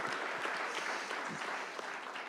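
A studio audience at a cricket-themed talk show applauds with dense, continuous clapping for a couple of seconds.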